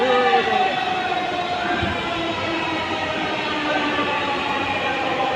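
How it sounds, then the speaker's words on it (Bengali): A Dhaka metro train passes on the opposite track, a steady, moderately loud rumble and hiss that holds evenly throughout with no pauses. "এটা হচ্ছে অন্যদিকের ট্রেন।"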